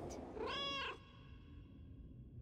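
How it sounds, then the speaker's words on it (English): A single clear video-game cat meow, rising then falling, heard alone over a low steady background hum. "I can also summon a meow."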